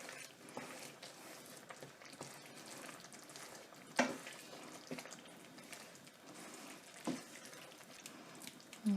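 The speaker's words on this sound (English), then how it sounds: "I'm just adding the garlic paste into the pan. I'm just going to give that a gentle stir." Garlic paste frying quietly in a pan, a soft continuous sizzle with faint scraping clicks as it is stirred gently.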